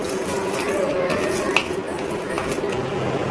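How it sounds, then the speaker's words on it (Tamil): Uncooked rice tipped into a pressure cooker for vegetable biryani, a soft rustling, stirring scrape with one sharp clink partway through, heard close over a steady low kitchen hum. "ரைஸ் போட்டாச்சு."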